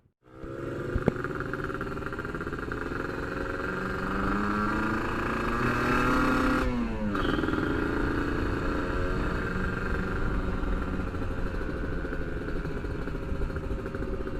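A motorcycle engine runs steadily throughout, a loud, close droning idle with a brief shift in pitch midway, as if briefly revved.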